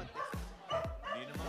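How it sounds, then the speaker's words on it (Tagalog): A dog inside a house barks three times in quick succession, each bark short, sharp and fairly close. The barks are evenly spaced over a second and a half. "Ay, may aso rin sa loob."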